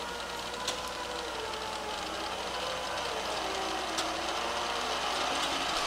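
A used 11" x 18" Hardinge HLVH tool room precision lathe with a 5C collet spindle turns at about 200 RPM, giving a steady, continuous mechanical hum and whir at even loudness with faint ticks and no talk.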